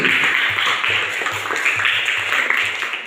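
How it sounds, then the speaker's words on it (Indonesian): A classroom group applauds after a presentation, with dense, steady clapping from many hands lasting a few seconds and faint murmuring beneath. "kasih tepuk tangan untuk kelompok 1 sekali lagi"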